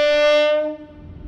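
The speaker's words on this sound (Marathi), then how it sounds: "तिचा जो हॉर्न आहे ना, तो एक प्रकारची ट्रेनची ओळख देऊन जातो, कारण ट्रेनसारखा हॉर्न आहे." A Parijat Travels bus horn on the road from Malvan, a loud train-like horn with a rich, chord-like tone, sounding once close by and cutting off after about three quarters of a second.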